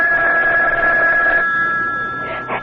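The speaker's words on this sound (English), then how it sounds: "Oh, that's the phone, Parker." Telephone ringing in a radio mystery drama, a sustained electric bell tone that holds for over a second, pauses, then starts again briefly, loud and close.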